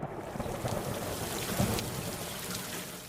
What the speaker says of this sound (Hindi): आसमान में बादल गरजने लगे और कुछ पलों में ही बारिश शुरू हो गई।